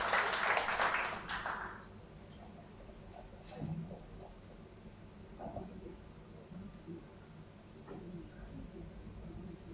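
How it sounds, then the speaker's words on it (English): Audience applause at a conference dissemination event, a burst of clapping in the first two seconds that fades quickly into quiet room noise with a few faint knocks. "A big round of applause for Dr."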